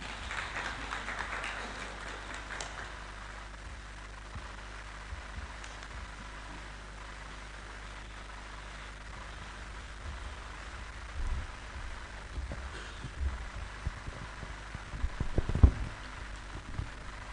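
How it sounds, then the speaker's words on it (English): Soft, distant applause at an award ceremony, a steady patter of clapping that stays faint, with a few louder claps toward the end. "let's welcome him with a round of applause"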